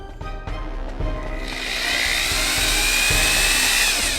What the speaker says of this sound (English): I found I needed to just drill the hole a little bit on the side here, and I'm going to do that here right now.